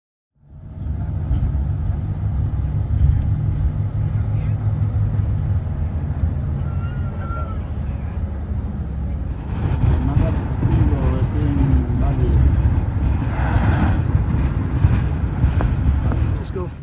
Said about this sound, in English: Off the bus, about a 4-hour ride, pretty windy road